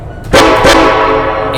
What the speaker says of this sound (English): I can use the keyboard to blow the horn